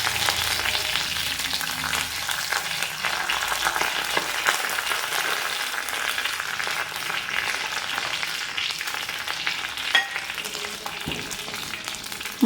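Chillies and curry leaves fry in hot oil for a Kerala pumpkin and cowpea erissery, a loud, close, continuous sizzle and crackle with occasional stirring clatter, no voices.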